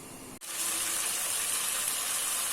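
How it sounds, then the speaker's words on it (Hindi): Half a glass of water poured into mutton korma in a home kitchen, a steady loud gushing pour that starts abruptly after a brief pause and runs continuously to the end with no talk. "इसमें मैं हाफ गिलास पानी ऐड करने लगी हूँ"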